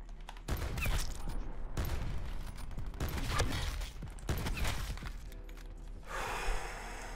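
Sniper rifle shots from a Koshka in a video game crack loudly every second or so, each one followed by a brief ringing tail, with mechanical clicks between them.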